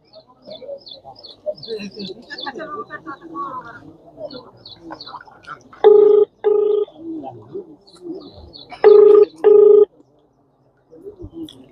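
Two pairs of loud, clear mobile phone dialing tones beep amid people talking and birds cooing in the background.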